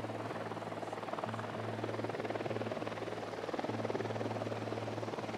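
A video game helicopter drones steadily with a loud, continuous rotor thrum throughout, as if flying close overhead, with no talk.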